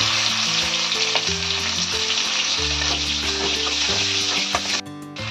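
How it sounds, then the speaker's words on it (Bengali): Halved onions and tomatoes frying in oil in a kadai, a loud, dense sizzle with stirring throughout that drops off sharply just before the end. "এইগুলো আমি তেলে, এই কড়াইতে তেলে একটু নাড়াচাড়া করে তুলে মিক্সচার করব।"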